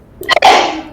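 One loud close sneeze: a brief sharp intake, then an explosive burst that trails off, with nothing else around it.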